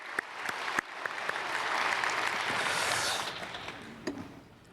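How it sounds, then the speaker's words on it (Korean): A church congregation at a Sunday worship service claps to welcome newly registered members. The applause swells to a full, steady burst and then fades out, with a few sharp claps at the edges and soft voices faintly underneath. "우리 크게 박수로 환영하겠습니다."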